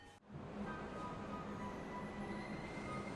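A subway train arrives at a station platform with a sudden onset into a steady rumble and rail hum, with faint wheel squeal and tonal whine holding on throughout.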